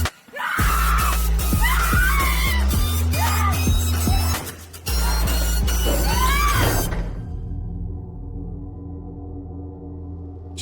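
A woman in a TV episode lets out repeated loud, shrill screams over rhythmic thumping and clatter, ending abruptly in a low, quiet hum.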